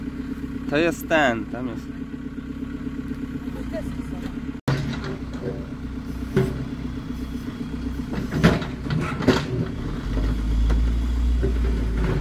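A JCB 3CX backhoe loader's diesel engine rumbles at idle, then pulls away with a rising, uneven chug, heard from nearby while people talk in Polish.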